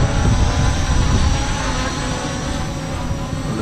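HS720R drone flying in strong wind, a continuous loud whir of rotors mixed with rough wind buffeting, steady and close with no voices.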